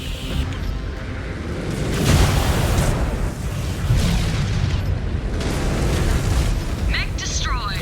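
A destroyed mech exploding in a MechWarrior Clans video game, a loud, sustained booming rumble that swells twice over the span, under cockpit voice announcements and continuous combat noise.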